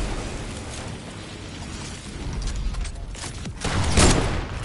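A sharp gunshot-like boom bursts out over a dense, noisy game soundscape, with a smaller crack just before it.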